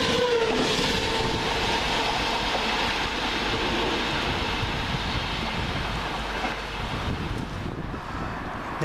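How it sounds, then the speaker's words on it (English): A Class 390 passenger train on an Edinburgh Waverley to London Euston service via Birmingham New Street roars past close by, a loud continuous rumble with clattering wheels that fades slightly toward the end. "It's coming around the corner, 9 Mike 54 from Edinburgh Waverley to London Euston via Birmingham New Street."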